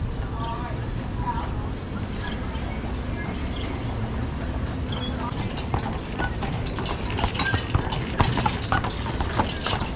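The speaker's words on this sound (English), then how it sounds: "So they use these horses here for everything." Horses clip-clopping along the streets of Mackinac Island, Michigan, steady hoofbeats under continuous outdoor street noise, with people talking throughout.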